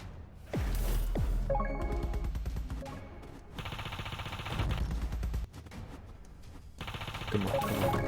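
Rapid gunfire in the mobile shooter Mayhem, bursts of automatic shots in dense clusters separated by brief pauses, loud and close with no talking.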